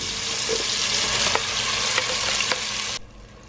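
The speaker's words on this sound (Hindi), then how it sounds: "पेस्ट मैंने डाल दिया है टमाटर का और प्याज का। अब इसको अच्छी तरह भून के फिर कोफ्ते डालेंगे।" Tomato and onion paste sizzling and frying in a pan for mutton kofta curry, a steady dense crackle with a few stirring scrapes, loud and close, cutting off sharply near the end.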